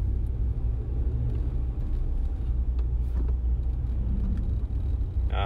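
A 2016 RAM 1500 Crew Cab Big Horn 4x4 pickup idles in neutral with four-wheel drive engaged, giving a steady low engine rumble that holds even and close throughout with no talking.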